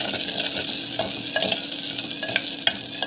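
Vegetables sauté in a hot pan with a bright continuous sizzle, broken by a few soft scrapes and taps of the stirring spoon.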